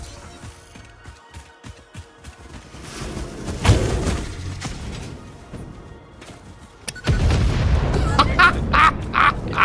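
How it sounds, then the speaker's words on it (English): An explosion in the factory-building game Satisfactory during multiplayer play, a deep booming blast that swells midway, then a louder rumbling burst with crackling debris toward the end. "That was a great looking explosion."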